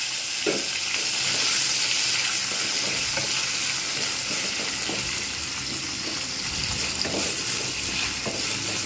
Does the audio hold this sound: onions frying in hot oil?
yes